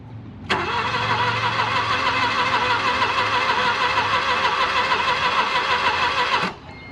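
An old car with 76,000 miles, sitting at a motor pool, turns over for about six seconds in a steady, even drone with no catch, loud and close, starting and stopping abruptly.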